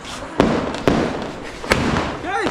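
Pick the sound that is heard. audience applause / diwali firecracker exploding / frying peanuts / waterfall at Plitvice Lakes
diwali firecracker exploding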